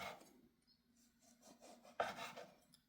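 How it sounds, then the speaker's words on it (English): A knife saws through a loaf of bread for French toast, making soft, quiet rasping strokes close by, with a sharper crunchy stroke near the end. "Slice into it. We're gonna make some thick slices, guys."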